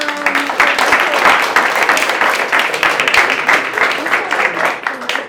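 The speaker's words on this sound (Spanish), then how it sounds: "un aplauso para" Loud, dense audience applause at a community theatre forum event, a continuous roar of many clapping hands close by, holding steady for several seconds before easing slightly at the end; a voice is briefly heard at the very start.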